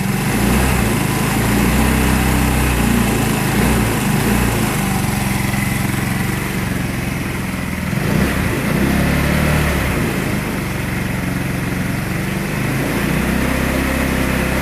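Small engine fitted with an 11-pole stator upgrade, running loud and close at a steady high idle near 4,000 RPM, with a constant buzzing drone and a slight dip partway through.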